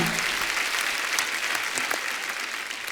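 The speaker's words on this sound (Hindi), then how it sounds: "एक बार जोरदार तालियां" A studio audience bursts into strong, sustained applause, a dense wash of clapping heard close and loud for several seconds.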